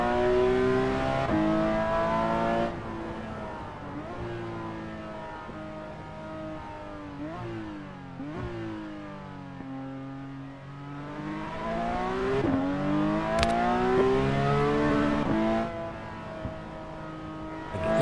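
A racing car's engine in Assetto Corsa, driven uphill along the Transfăgărășan road, revs up and down through repeated gear changes, a loud steady drone rising and falling in pitch with no talking.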